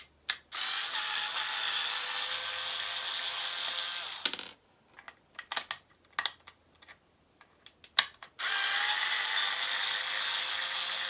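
A ratcheting screwdriver backs out small screws from a TV wall mount, sounding as long continuous buzzing ratchet runs at the start and end, with a scatter of sharp close clicks and clatters in between.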